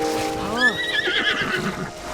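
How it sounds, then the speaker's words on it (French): A horse in the video game Zelda: Tears of the Kingdom gives a clear, close neigh with a rising and falling whinny, followed by soft hoof clip-clop in the background. "Mon cheval."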